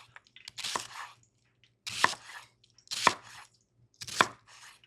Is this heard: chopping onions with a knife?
yes